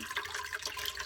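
Caustic lye water poured straight into a plastic container for soap making, a steady close splashing trickle of liquid running for about a second with no talk.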